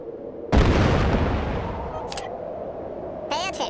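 A single loud weapon blast and booming explosion in Worms 3D, a sharp onset that rumbles and decays over a few seconds, followed by brief cartoonish game effects.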